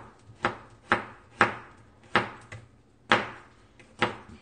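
Kitchen knife chopping food on a cutting board while cooking potato stir-fry, rolled omelette and eggplant, seven sharp distinct knocks at an uneven pace, close and clear.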